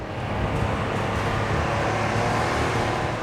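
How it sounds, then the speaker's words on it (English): The heavy engine of a weighty military vehicle labours as it climbs a hill, giving a steady, loud, broadband rumble and roar that stays constant from start to finish, with no talking. "You really notice the engine in this thing struggling when you go up some of these rises and hills"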